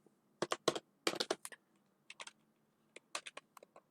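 Computer keyboard keys clatter in quick irregular bursts with short pauses while Python code is typed, close and clear with no talking.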